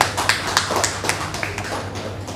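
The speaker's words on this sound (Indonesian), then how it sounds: "Ya, tepuk tangan buat Mbak." Scattered hand claps from a small audience at an Indonesian talk honor a woman who volunteered from the crowd, sounding as a modest, uneven patter of claps.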